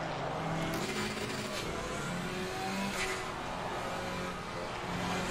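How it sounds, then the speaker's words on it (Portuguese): A KTM GT4 race car in Assetto Corsa Competizione on the Hungaroring circuit, its engine droning steadily and loud for the whole stretch, with no break and no voices. "eu tô pilotando um KTM"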